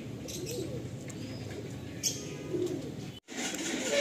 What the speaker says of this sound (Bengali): দেখুন এই যে একজোড়া মানে 2 পিস ফুলসিরা নর পায়রা রয়েছে